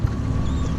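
A fishing boat on Sydney Harbour idles with a low, steady engine rumble, mixed with wind and water noise close to the microphone.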